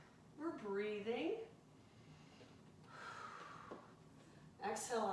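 Heavy, effortful breathing while holding a high plank in a vinyasa yoga flow: a sharp gasping inhale, a quieter breath in the middle, then another strong breath, close to the microphone.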